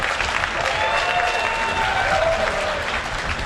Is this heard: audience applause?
yes